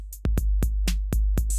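A BandLab drum machine preset beat plays alone: a short, steady pattern of punchy kick and snare hits with crisp hi-hat ticks, about six evenly spaced hits in under two seconds.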